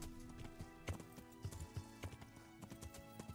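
Horse hooves while riding in the video game Kingdom Come: Deliverance, a soft, steady clip-clop of hoofbeats at a gait under quiet game music.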